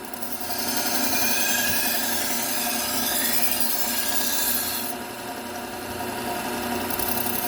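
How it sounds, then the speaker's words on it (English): A knife is sharpened on a Trizac 830 belt of about 600 grit, a continuous loud grinding hiss over the steady hum of the belt machine that changes slightly in tone as the blade moves. "So now I'll move to the Trizac. This is a Trizac 830 belt, about 600 grit."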